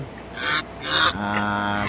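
Farm geese honk loudly and close by, two harsh bursts followed by a longer nasal call, with no one talking.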